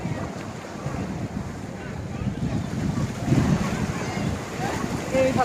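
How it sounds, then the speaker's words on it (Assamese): Sea waves at Kanyakumari roll and wash in a steady, loud surge, heavily buffeted by wind on the microphone. "এইফালে সাগৰৰ ঢৌ চাওক কেনেকুৱা ঢৌ"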